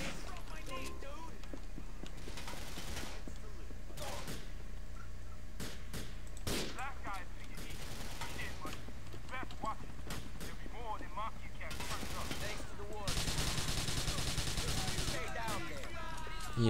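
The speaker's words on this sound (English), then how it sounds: "Who the hell's still shooting me?" Gunfire in GTA IV crackles in scattered bursts and single shots amid other game noise, with someone talking and shouting over the fighting.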